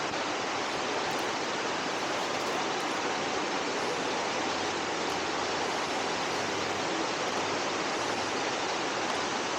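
Water pours and rushes at Kanarra Falls in a rocky slot canyon near Zion, a loud, steady broadband roar that stays constant throughout with no voices.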